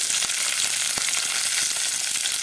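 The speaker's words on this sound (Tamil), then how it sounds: "ஒரே ஒரு பச்சை மிளகாய் கீறி வச்சுருக்கேன் அதையும் சேர்த்துக்கிறேன்" A slit green chilli drops into a sizzling pan, bringing a loud, dense frying hiss that runs unbroken with a few sharp crackles, close and alone without talk.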